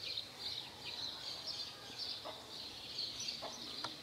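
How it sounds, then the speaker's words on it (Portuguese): A hen clucks softly as she walks with her chicks down a quiet street on a Sunday morning, with a steady high chirping of the chicks and a few brief, faint clucks over light background noise. "e a galinha passeando com seus pintainhos"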